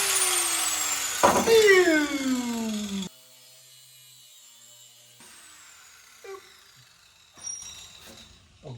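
A power tool cuts into steel brake pedals on a body-dropped Suzuki Samurai, giving a loud, close, descending whine and a screech for about three seconds, followed by quieter intermittent tool noises and clanks.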